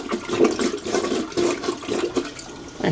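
A toilet flushes after a clog has been plunged, a loud, close rush of swirling water with uneven surges that runs steadily for the full stretch with no talking.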